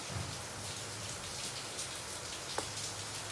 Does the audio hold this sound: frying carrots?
no